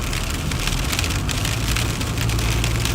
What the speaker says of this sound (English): Yeah, it's raining now.